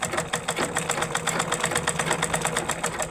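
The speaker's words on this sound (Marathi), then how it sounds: "यासाठी आपल्याला ही बारीक शिलाई मारून घ्यायची आहे" A domestic sewing machine stitches a fall onto a work saree, its needle mechanism hammering in a fast, steady rhythm of close, even pulses throughout.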